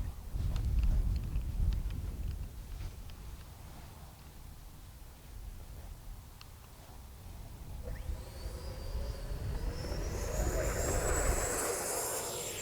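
An FMS 64mm Futura electric ducted-fan sport jet takes off on a runway, its fan whine building into a rising high-pitched whoosh as it rolls out and climbs, with low rumbling wind noise beneath.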